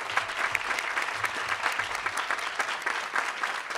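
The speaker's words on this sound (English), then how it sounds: "thank you for the round of applause for Dr. Frew." An audience at a medical school student and faculty awards ceremony claps after an award is announced, dense steady applause from a large crowd with no talk over it.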